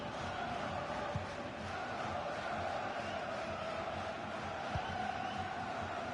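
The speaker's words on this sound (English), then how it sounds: "just listen to the crowd" Stadium crowd in a football video game career mode, a steady broad roar of many voices with swelling murmurs throughout, loud and continuous with no clear talk on top.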